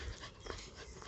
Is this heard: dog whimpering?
yes